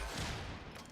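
Charged shot from the Javlok, a gas-powered weapon in Warframe, fired once: a loud, dense blast with a sustained rumbling crackle filling the whole second before a brief fade.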